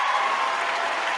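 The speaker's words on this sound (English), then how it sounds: "I'm gonna give it another round of applause." Dense, steady applause from a crowd during a live-streamed talk about debt, filling the whole moment evenly without a break.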